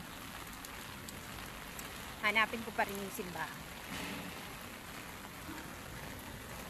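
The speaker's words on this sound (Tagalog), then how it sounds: "Yan, lakas ng ulan." Heavy rain pours as a steady hiss on a street near a church in Tseung Kwan O, Hong Kong, with a person talking briefly over the downpour.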